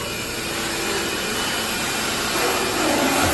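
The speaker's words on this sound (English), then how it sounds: "vacuuming it up right now" A vacuum cleaner sucks up leaked water from the floor of a fish room. It makes a loud, steady, broadband roar that runs without a break for the whole span and gets slightly louder toward the end.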